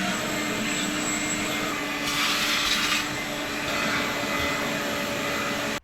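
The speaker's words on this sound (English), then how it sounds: "I'm going to start by doing a quick vacuum" Vacuum cleaner running inside the interior of a Nissan R35 GT-R, a steady close whine that swells briefly as the nozzle moves, with no talking.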